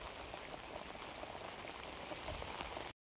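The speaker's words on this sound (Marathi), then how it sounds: "त्यात पाऊस पण चालूच आहे" Soft, steady patter of rain falling on a surface in a cucumber field, fairly quiet and continuous, cutting off abruptly near the end.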